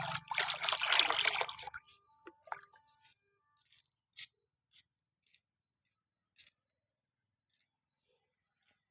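Raw cow dung water is poured onto weakened tomato plants in a short, close splashing gush, followed by scattered quiet drips and faint insect chirps outdoors.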